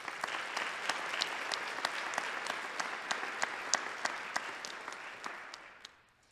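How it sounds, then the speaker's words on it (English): Audience at a high school National Honor Society induction ceremony claps in a steady, dense round of applause that tapers off near the end. "Please join me in thanking them with a round of applause."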